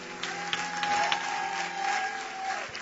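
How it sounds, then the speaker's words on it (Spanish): Church congregation applauding during a Spanish-language sermon, a moderate, steady wash of clapping held for about three seconds, with a faint sustained tone running underneath. "Vamos, aplaude a Dios por su gracia."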